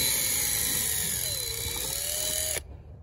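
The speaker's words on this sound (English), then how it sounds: "They can drill you a hole right in the center." A small power drill whines steadily up close as it bores a hole into the center of a lawn mower's blade clutch switch, the pitch sagging under load before cutting off abruptly.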